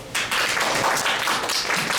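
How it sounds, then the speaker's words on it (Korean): A lecture audience gives a steady round of applause lasting about two seconds, dense and fairly close, with no talking. "그럼 박수로 오늘 강연 시작해 보도록 하겠습니다"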